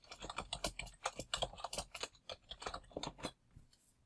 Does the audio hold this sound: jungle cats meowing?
no